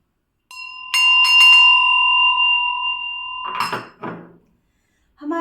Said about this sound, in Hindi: हमारी घंटी बज चुकी है